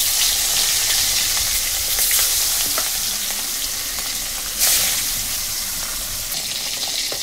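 Live pond fish fry in hot oil, giving a continuous hissing sizzle with crackles and one louder spatter burst, with no talking.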